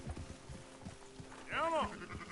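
Sheep bleating in the video game Red Dead Redemption 2: one clear, wavering bleat rises near the middle, over low background talk and ambient game noise.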